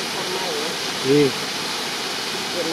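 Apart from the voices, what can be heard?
waterfall at Heart Rock Falls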